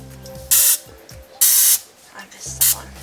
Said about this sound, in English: I almost forgot to spray it.